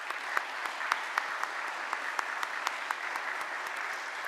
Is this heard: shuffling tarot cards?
no